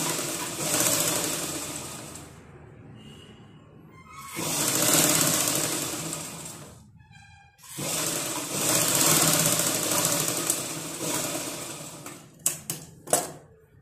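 A sewing machine double-stitches a joined seam on a fabric bowl piece, running in long loud bursts of rapid mechanical clatter with short pauses, ending in a few quick clicks.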